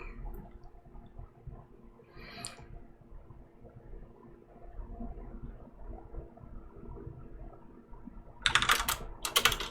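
Keystrokes on a computer keyboard while running Java commands: one brief click early on, then a quick burst of close typing near the end, with a quiet room hum in between.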